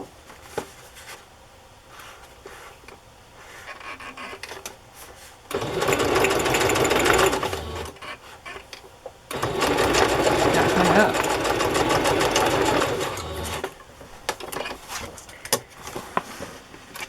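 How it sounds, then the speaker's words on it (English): A sewing machine stitches an embellishment onto a handmade journal in two loud, rapid runs of mechanical chatter separated by a pause, close by, with a voice speaking softly in the quieter stretches. "I'm gonna sew it there."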